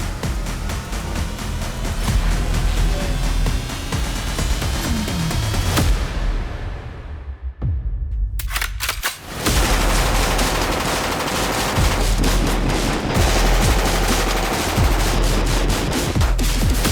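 Sustained gunfire at an outdoor shooting range during an event at a firearms maker's facility, dense overlapping rapid shots and bursts that briefly pause before resuming, loud and continuous throughout.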